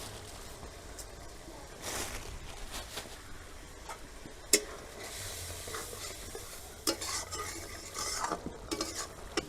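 Spiced jackfruit masala being stirred and sautéed in a pan, with repeated spoon scrapes and clinks over a soft, steady sizzle, close by and without talk.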